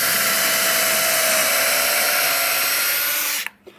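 Power drill run at full speed boring a pocket hole through a board held in a jig while building a full-size double bunk bed, a loud steady whine lasting about three seconds before stopping abruptly.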